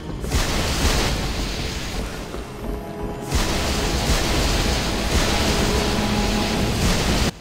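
A water spell rushes over flames in the Harry Potter and the Goblet of Fire PC video game: a loud, continuous surging wash like breaking surf, with a brief dip midway before the roar resumes.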